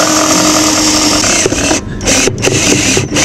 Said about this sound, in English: So I'm attaching them with these pretty thick metal screws, self-tapping.